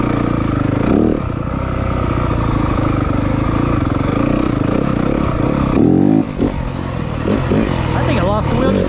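A 2023 Yamaha 250FX dirt bike engine under throttle, holding a loud, steady, buzzing drone close to the rider, with rough clatter and a brief dip before it climbs again.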